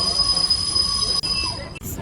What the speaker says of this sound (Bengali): দার্জিলিংয়ের টয় ট্রেন বাজারের মধ্যে দিয়ে,